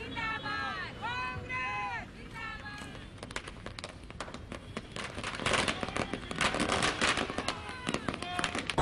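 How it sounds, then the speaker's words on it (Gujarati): Firecrackers set off by Congress party workers at a street celebration of an election win in Junagadh, a dense run of sharp crackling bursts growing louder over the second half, with a voice speaking at the start and crowd hubbub beneath. "કોંગ્રેસ કાર્યકરોએ ફટાકડા ફોડીને ખુશી પણ વ્યક્ત કરી"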